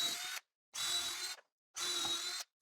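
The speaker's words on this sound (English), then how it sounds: "So we'll screw them in from both sides, make sure they are secure." Power drill driving 3-inch screws into wooden workbench legs for a miter saw bench, three short loud whirring bursts of roughly half a second each, separated by brief pauses, close up with no talking.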